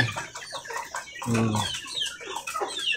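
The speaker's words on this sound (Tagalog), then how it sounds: "At yung isa ay ang pogi kong manok, Mr. Swabi." A pet rooster named Mr. Swabi clucks in short repeated bursts close by, with a few louder, throatier calls among other chickens.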